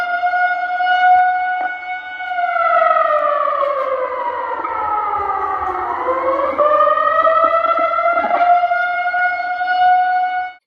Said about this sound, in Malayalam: ജില്ലയുടെ വിവിധ ഭാഗങ്ങളിൽ സൈറൻ മുഴങ്ങി.